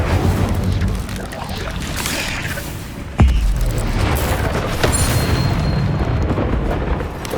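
Incendio fire spell cast during combat in Hogwarts Legacy, a sudden booming burst at about three seconds over a rumbling battle backdrop, loud and close.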